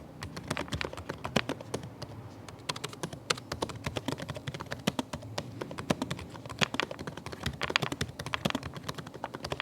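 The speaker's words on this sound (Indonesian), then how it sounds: "contoh suara feedback dari keyboard ROG Zephyrus M16 GU603ZM" Fingers type rapidly on the keyboard of a 2022 ROG Zephyrus M16 GU603ZM gaming laptop, producing a dense, irregular stream of close, crisp key clicks without any voices.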